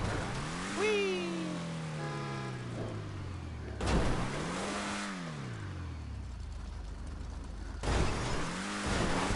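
Lampadati Viserys sports car in a video game, engine revving hard through repeated rising and falling sweeps with gear-shift drops, loud and close, three distinct acceleration surges in a row with no talk.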